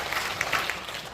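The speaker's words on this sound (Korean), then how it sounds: "박수 한번 쳐주시면 감사하겠습니다." An audience gives a short burst of clapping in a hall during a Korean Christian council inauguration service. The applause is soft and diffuse, with a few sharper claps standing out.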